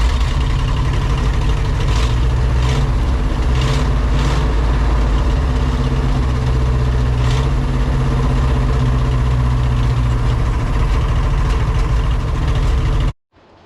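A 1966 Ford F-600 dump truck engine running after being started, a steady loud low rumble with some revving from pumping the throttle, continuing until it cuts off abruptly at the end.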